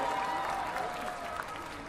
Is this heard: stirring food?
no